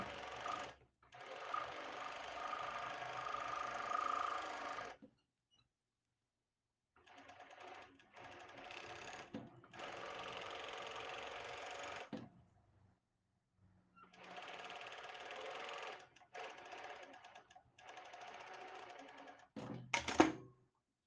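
A sewing machine stitches elastic onto a handmade bra, running in three steady bursts of several seconds each with short pauses between, then a brief sharp clatter at the end.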